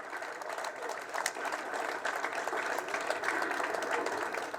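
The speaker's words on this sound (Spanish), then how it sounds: "Un fuerte aplauso también para el compañero embajador Chirino" Faint, steady applause from a crowd at an open workers' union talk in a neighbourhood, a continuous patter of hand clapping heard from a distance with no clear voices.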